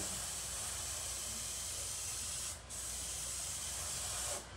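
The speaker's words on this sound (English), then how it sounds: "I'm just gonna spray" Steady airbrush spray hissing continuously for several seconds while painting dots on an RC car body, with two brief dips where the spray cuts off momentarily.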